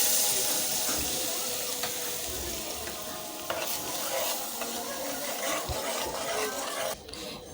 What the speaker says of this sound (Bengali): মশলাটা কষার জন্য দিয়ে দিচ্ছি পানি